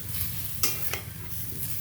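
Arroz caldo boiling in a pot gives a steady close bubbling hiss, broken by a couple of brief scraping stirs.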